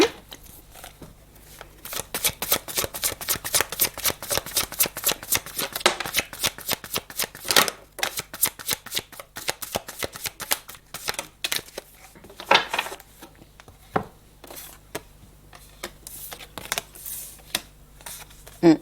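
Tarot cards being shuffled by hand: a long series of rapid, close riffling and flicking bursts, crisp and fairly loud, with brief pauses between rounds and no talking.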